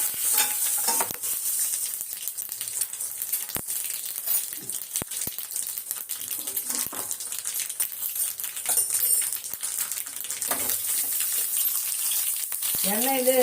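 Mustard seeds, asafoetida and dried chillies tempering in hot oil for a mint chutney, a steady close sizzle with occasional sharp pops and stirring clicks, brief speech near the end.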